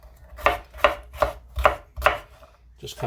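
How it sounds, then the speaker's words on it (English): A knife slices through a jalapeno on a cutting board in five or six sharp, evenly spaced chops, close and clear, with no talking. "I have a jalapeno here, so I just kind of slice this in half"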